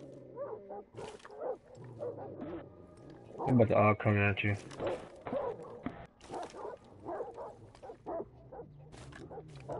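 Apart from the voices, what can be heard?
dogs barking in video game Rainbow Six Siege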